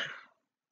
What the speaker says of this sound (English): I can cough out more.